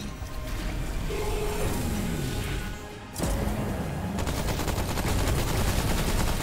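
Gunfire in the video game Remnant: From The Ashes, with a sustained rattling burst and harsh crackling shots that grow louder after a brief dip midway.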